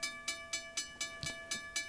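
Model level crossing warning bell sound played through an Arduino-driven MP3 module, striking in a steady rhythm about four times per second, each ring bright and metallic with a sustained tonal hum, close and fairly loud with no talking.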